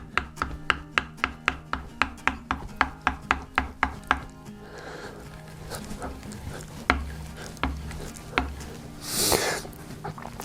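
A V tool carving gouge stropped by hand, set on its bevel and rolled over on its tip: a quick, regular run of crisp strokes, then softer, irregular scraping and rubbing with a few isolated taps.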